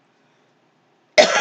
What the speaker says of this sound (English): See if I want to cough again.